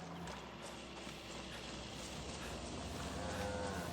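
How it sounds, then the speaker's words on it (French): Horses clip-clopping in the video game Far Cry 6, quiet rhythmic hoofbeats blended into a dense, continuous game soundscape, no voices. "Attends, il y a des chevaux."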